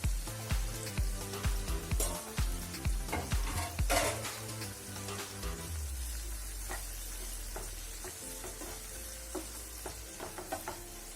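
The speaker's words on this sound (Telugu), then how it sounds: "ఒక 2 సెకండ్ల నూనెలో వేయించి" Soaked dried fish frying in oil in a pan for a fish curry: a few seconds of scraping stirs and clatter over a close sizzle, then a steady, even hiss of frying.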